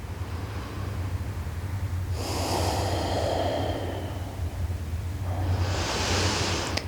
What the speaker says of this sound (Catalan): Fem unes respiracions profundes.